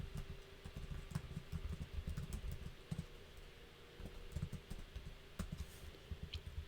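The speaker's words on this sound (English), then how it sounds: "let me just type it out and then I'll explain" Keystrokes on a computer keyboard come in irregular bursts of soft clicks, close and steady at moderate volume over a low background hum, with no talking.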